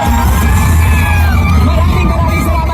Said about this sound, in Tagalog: Labangin ng mainit na palakpak at sigawan, Vice President Sara Duterte!